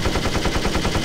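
Rapid machine gun fire from a WW1 plane in the Warbirds flight simulator game, a fast continuous burst of shots lasting about a second.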